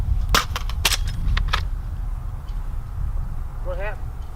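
A rifle fired at a vehicle defense training course: several sharp, close shots in quick succession at the start, then quieter background noise with a brief whistle-like sound near the end.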